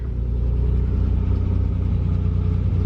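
A 1988 Nissan 300ZX Z31 engine idles at a steady, even rumble after a cold start following winter storage, close by and continuous with no talking.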